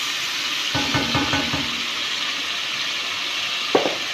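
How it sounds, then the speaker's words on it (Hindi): Ginger and garlic added to hot oil with cumin in a pan give a loud, steady sizzling hiss throughout, with a burst of stirring scrapes early on and a sharp utensil clack near the end. "अब मैं इसमें अदरक लहसुन डाल रही हूँ।"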